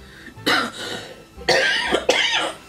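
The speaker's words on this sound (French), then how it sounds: "Pourquoi je tousse aujourd'hui?" Three harsh, forceful human coughs close up, each a short burst with pauses between them.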